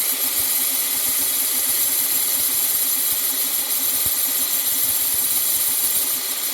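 A grinding wheel sharpens a tungsten carbide cutter, giving a steady, loud, continuous whir and hiss with faint rhythmic ticks underneath, unbroken from start to finish.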